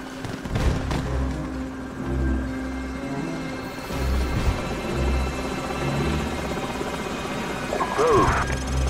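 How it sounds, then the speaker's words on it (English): Steady rotor thrum of enemy helicopters in Call of Duty 4: Modern Warfare, continuous and fairly loud, with voices and scattered effects layered over it. "Enemy helicopters."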